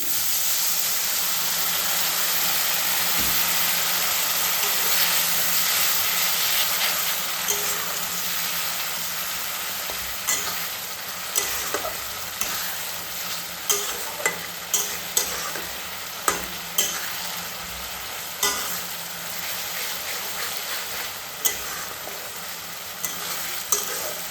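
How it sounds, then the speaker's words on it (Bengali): Spicy chicken masala in a pan, steadily sizzling and frying up close after water is added, with the hiss easing over time and a series of sharp scraping stirs and taps breaking through in the later half. "এবারে জল দিতে হবে কিছুটা পরিমাণে জল দিয়ে দেবো"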